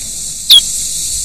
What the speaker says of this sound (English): The European pipistrelle improves its sound picture by using the higher frequencies of ultrasound.